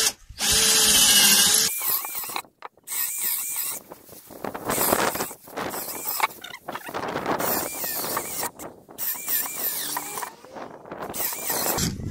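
Bursts of an electric drill driving screws into wood for a bench, whirring and ratcheting, starting and stopping repeatedly, close and loud, with brief quiet gaps between runs.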